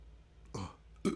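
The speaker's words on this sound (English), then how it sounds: "There's that burp." A single loud, close burp bursts out alone after a quieter guttural throat sound, with no talking over it.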